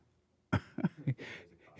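A few short coughs and throat-clearing sounds in a quiet studio, fairly faint and broken into separate bursts over under two seconds.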